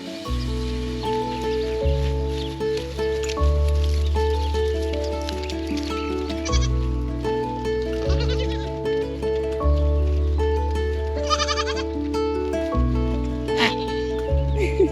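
Goats, including mini La Mancha does, bleat repeatedly as they come out on a homestead farm, several overlapping calls near and loud over a steady background with rustling, with no talk.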